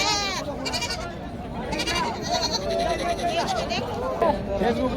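Goats bleat repeatedly amid a crowded, noisy livestock market in Parbhani, India, their cries rising over people talking and general chatter nearby.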